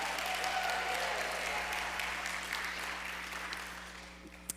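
A church congregation applauds and cheers, a dense, sustained wash of clapping and voices that holds steady and then slowly fades out near the end.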